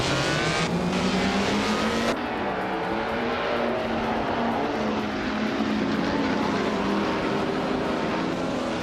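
Vintage 1950 Ferrari 125 F1 race cars in a racing video game, their engines roaring loud and continuous, with pitch rising and shifting as the cars accelerate and pass.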